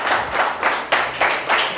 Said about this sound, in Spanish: aplauda también al Señor en esto